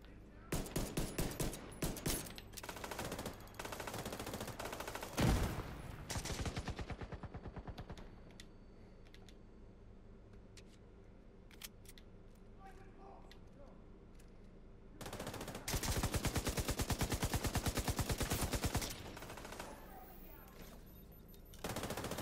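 Bursts of light machine gun fire in The Division 2 video game, loud sustained automatic volleys at the start and again near the end, separated by a quieter stretch with scattered distant shots.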